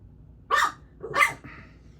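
A new puppy barks twice in quick succession, fairly close and sharp, followed by a softer yip, with quiet room noise between the barks.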